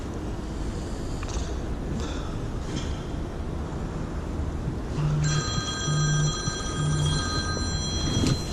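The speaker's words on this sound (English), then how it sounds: "Typical first cast, phone started ringing" A mobile phone rings beside a canal while lure fishing for perch in Birmingham, its bright repeating electronic ringtone starting partway through and sounding close and clear over outdoor background noise, with a few faint clicks before it.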